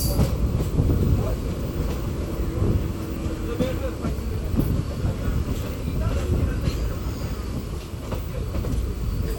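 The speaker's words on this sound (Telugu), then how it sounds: "ఒక నిమిషం హాల్ట్ తర్వాత మన ట్రైన్ తిరిగి బయలుదేరింది" A passenger train running from Madurai toward Rameshwaram rumbles steadily with continuous wheel and carriage noise, a dense low roar that fills the whole stretch without letup.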